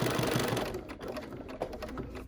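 Sewing machine stitching fabric for a pumpkin-shaped trivet, a rapid mechanical whirr of needle strokes running steadily close up, then breaking into short bursts and single stitches.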